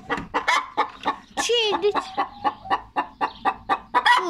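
White chickens cluck close by in a steady run of short, rhythmic calls, with one louder squawk partway through and someone speaking briefly among them.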